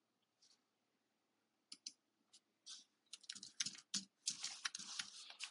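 A chat message typed on a computer keyboard: a few scattered key clicks, then a quickening run of close, crisp keystrokes.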